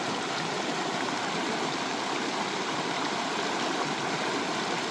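Swift floodwater rushing past in a broad, steady roar of flowing water, loud and unbroken, with no voices.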